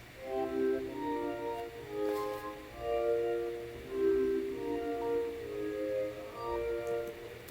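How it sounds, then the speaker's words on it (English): A synthesized bowed-vibraphone layer plays soft, sustained overlapping tones that swell and fade in a slow melodic line, smooth and steady, with no voices. "Here's the sound of just the bowing vibes"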